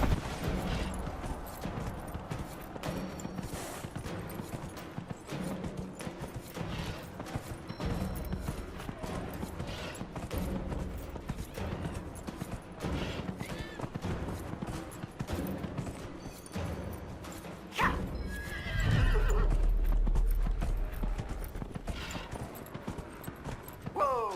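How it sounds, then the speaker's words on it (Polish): Horse hooves clip-clop steadily in the video game Dragon Age: Inquisition, a quick rhythmic trot over game music and ambience, with a louder burst of activity near the end. "My tu już mamy pierwszego konia."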